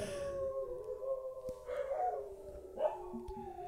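Dogs howl in long drawn-out wavering tones, with a few short yips breaking in near the end, fairly close and unaccompanied by talk.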